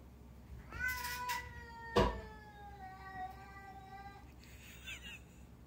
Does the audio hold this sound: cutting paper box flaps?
no